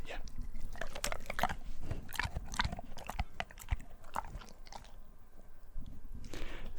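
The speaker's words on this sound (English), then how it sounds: "It's literally in the mouth, little bit, swallow." A dog gulping down a treat with quick, close wet mouth clicks and smacks, swallowing it without chewing, with soft talk in the background.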